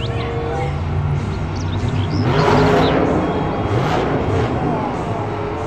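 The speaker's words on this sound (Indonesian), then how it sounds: "Mobil truk monster." A toy monster truck gives off a continuous mechanical engine rev, a steady buzzing roar that swells briefly in the middle and then settles, heard close.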